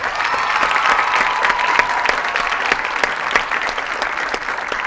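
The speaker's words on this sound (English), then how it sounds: "I think we need to give them all another round of applause." A school audience applauds student leaders at a leadership announcement, dense sustained clapping from many hands filling the room at close range with no talk over it.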